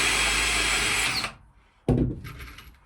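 A power drill with a small bit whirs steadily for over a second into cement board, stops, then a second shorter burst of drilling follows after a brief pause.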